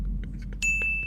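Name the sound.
phone ringtone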